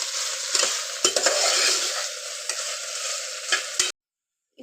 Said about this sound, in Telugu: మధ్యలో మధ్యలో ఇలా కలుపుతూ అయితే వేపుకోవాలి